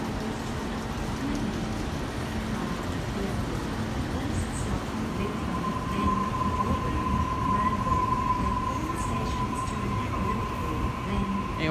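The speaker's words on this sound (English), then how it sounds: "we've got some NR classes just moving through the area. NR95, Indian Pacific livery." NR class diesel locomotives in Indian Pacific livery haul a train through Flemington, giving a steady distant rumble of engines and rolling wagons with a thin wheel squeal partway through.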